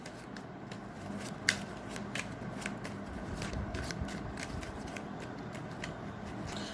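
Tarot cards being shuffled and drawn, a close run of rapid riffling flutters and sharp card snaps repeating through the stretch, with no one speaking.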